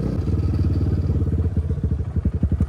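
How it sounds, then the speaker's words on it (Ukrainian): A Kovi Advance 250 off-road motorcycle revs hard in a forest, its close, loud engine pulsing and burbling, then breaking into a string of quick throttle blips near the end. "бо ми газуємо в лісі"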